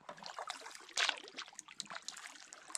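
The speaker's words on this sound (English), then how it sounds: "Paddling in some very narrow waterway." A canoe is paddled along narrow Maple Creek in Algonquin, with soft, steady water trickling and splashing close by. A brighter splash or brush of foliage stands out near the middle, and no one speaks.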